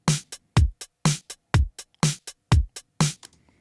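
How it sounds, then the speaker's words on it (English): Closed hi-hat from a stock Logic drum plug-in ticks in a steady eighth-note groove, crisp and bright, mixed with a punchy kick and snare hitting the main beats, a dry, even loop with no voices. "the hi-hat is going to be closed, and we're going to do it as 8th notes"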